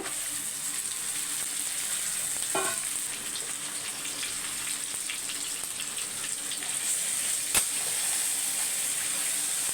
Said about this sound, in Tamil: இந்த அளவுக்கு வதங்கினோன்னே நம்ம சிக்கனை சேர்த்துடலாம்